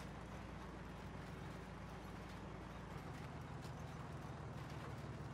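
Horses in Farming Simulator 19 make a steady clip-clop of hooves that carries on throughout, loud and continuous over a broad rumbling game ambience with a low hum.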